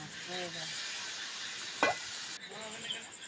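Chicken pieces frying in a pan with turmeric and salt, a soft steady sizzle close by with a single brief metallic clink of utensil partway through, fairly quiet, no talk.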